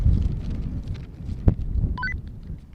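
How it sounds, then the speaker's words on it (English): Gusty wind on a hilltop at an old racecourse in Richmond buffets the microphone with low rumbling bursts, a sharp knock partway through, and a quick chirp of electronic beeps near the end. "It's a bit windy up here as well, so it's a bit of a annoyance."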